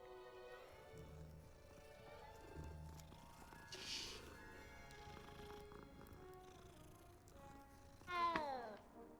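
A cat in a Hogwarts video game meows and purrs amid game music and ambience, with a short louder call near the end standing out above the background score.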